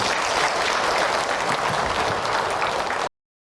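Audience applause at the close of an Islamic religious lecture, a dense, loud wash of clapping from a crowd that holds steady for about three seconds and then cuts off abruptly.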